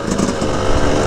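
KTM 200XC dirt bike engine out on a ride: a loud, close, buzzy engine note that holds a fairly steady drone for about a second.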